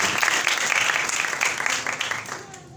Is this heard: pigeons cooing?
no